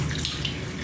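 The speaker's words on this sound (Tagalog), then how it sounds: "Sobrang lakas ng tubig." Strong stream of water gushing from a tap, a steady broadband hiss and splash filling the whole short moment without pause, close and fairly loud.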